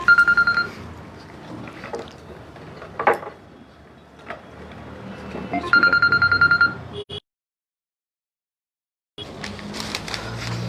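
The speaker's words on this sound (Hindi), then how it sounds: "मुझे फ़ोन आ रहा है" A phone rings with an incoming call during a Hindi poetry recitation: two bursts of rapid, pulsing electronic ringtone over a busy background, then a stretch of silence.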